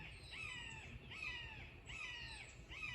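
Crows caw in a quiet outdoor setting, about four harsh calls spaced roughly evenly at a moderate distance, with no other sound competing.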